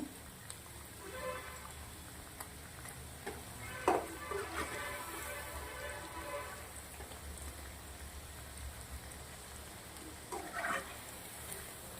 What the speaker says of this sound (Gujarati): એકદમ ક્રિસ્પી થાય ત્યાર સુધી આને આપણે તેલના અંદર તળવાના છે